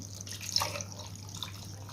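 Hot brine pours over mackerel in a pot for canning-style marinated fish, a soft continuous splashing and trickling of liquid heard close up with no talking, plus a faint low hum underneath.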